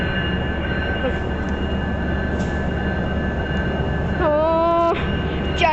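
MBTA commuter rail train at Quincy Center station, a low steady rumble with a tonal whine and a loud multi-tone horn blast near the end.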